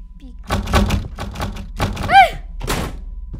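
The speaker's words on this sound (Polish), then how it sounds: "Drzwi się same zaczęły zamykać i otwierać." A door in the horror video game Specter closes and opens by itself, giving a few dull thunks and thuds over about three seconds, with speech-like voices heard through the sounds.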